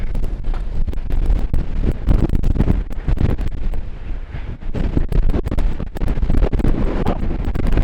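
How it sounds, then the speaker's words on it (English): Loud, gusty wind buffets the microphone continuously while cycling near Girona, a heavy low roar with rapid bumps and rushes and no voices. "It's super windy."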